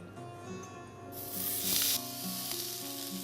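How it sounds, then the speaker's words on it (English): A sharp, loud sizzle erupts as a beef burger patty hits a smoking-hot pan, then settles into a steady frying hiss close by. "The sizzle there can tell you that it's hot enough."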